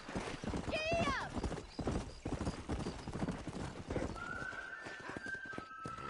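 A horse in Red Dead Redemption whinnies and breaks into a fast galloping clip-clop, hoofbeats close and rhythmic, with a voice calling out briefly near the start.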